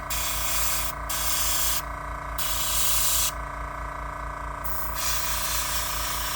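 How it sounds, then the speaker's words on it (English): An airbrush hisses in several bursts of a few seconds each, spraying paint on a Tamiya Mustang GT4 model car, steady and close, over a constant low compressor hum. "Nice to get some good control on the airbrush."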